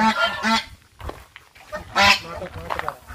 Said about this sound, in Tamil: ஆ இது வந்து ஒயிட் வாத்து